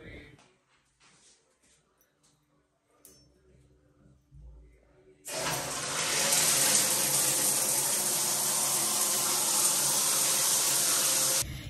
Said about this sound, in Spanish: me voy a duchar y a sacar toda la mascarilla del pelo